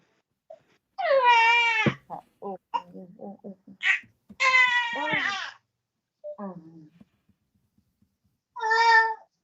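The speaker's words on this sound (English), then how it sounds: "Oh, your baby is crying" An infant of about three months cries in several rising, wavering wails with pauses between them. Adults talk softly in between the cries.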